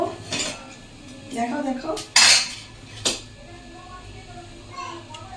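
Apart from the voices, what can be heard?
dishes and cutlery clinking while setting aside khichuri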